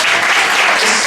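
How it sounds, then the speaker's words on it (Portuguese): A church congregation applauds together in steady, dense clapping that fills the space evenly, loud and sustained without pause or talk. "Você pode aplaudir a igreja em nome de Jesus?"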